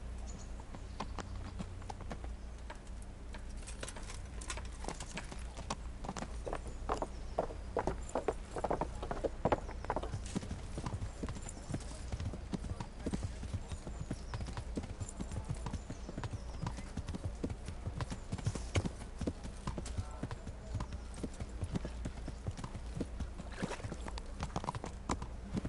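Horse hooves clip-clop steadily on the ground in the medieval video game Kingdom Come Deliverance, a rhythmic, moderately quiet trot over a low ambient background with no talking.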